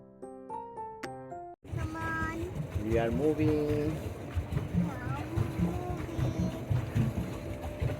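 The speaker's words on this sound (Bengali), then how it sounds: "এই যে দেখতে পাচ্ছেন একটা স্পিড বোর্ড যাচ্ছে" A speedboat motors past on a reservoir on a winter evening, its engine a steady broad roar that swells and holds after a brief tonal intro, with people talking over it nearby.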